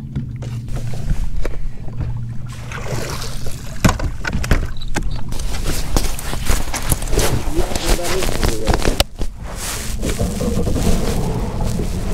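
A fishing boat idles on open water, a low steady engine hum with splashing and knocking, while someone talks over it.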